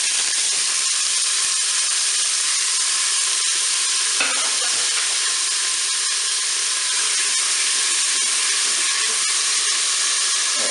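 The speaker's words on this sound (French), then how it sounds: "je vais mettre bien mes oignons dans la cuve" Onions browning in hot oil inside a Cookeo multicooker pot give a steady, dense sizzle with a constant hiss and faint occasional stirring, close and continuous throughout.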